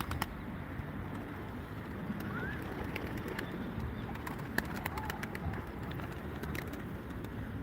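Ankara pigeons cooing in a loft, soft low coos mixed with faint bird chirps and wing flutters over a quiet background hum, no voices.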